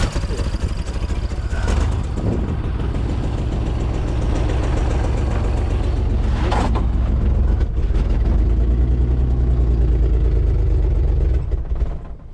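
A Holden HQ one-tonner engine runs continuously with a loud, low rumbling idle and rough, knocking character, steady throughout with slight swells and no clear speech.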